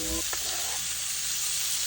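Diced onion and garlic sizzling in a pan for smothered chicken and gravy, a close, steady frying hiss with a brief stirring scrape at the start, no talk.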